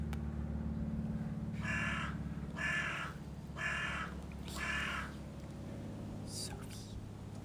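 A magpie calls four times in a steady rhythm of harsh, raspy caws, close and fairly loud over a constant low hum.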